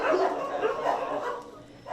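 Dogs at an animal shelter in Taipei housing around 200 dogs, barking and yipping in a dense, continuous chorus with some whimpering mixed in, moderately close and loud throughout, with no talk over it.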